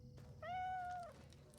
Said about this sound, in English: And the first thing I hear is a cat meow.